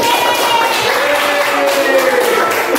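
Classroom audience of primary students in Indonesia clapping together, a dense steady patter of many hands sustained throughout, loud and close, with faint voices mixed in.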